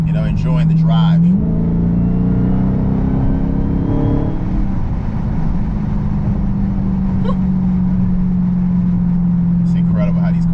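A 2020 Dodge Charger Daytona Hellcat Widebody cruises on the highway, its engine a loud, steady low drone from inside the cabin with a brief rise in pitch early on, while someone talks over it at the start and end.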